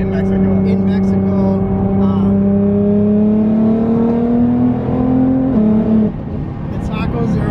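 A Rizide supercar accelerating hard on a closed road in Mexico: a loud, climbing engine whine holds through one gear shift, then drops off as the throttle eases, with a voice talking over it.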